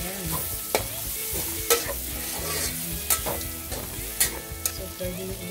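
Pancit canton noodles with peanuts being stirred in a hot pan, a busy sizzle broken by sharp spatula scrapes and clanks at an irregular rhythm, close and fairly loud with no speech.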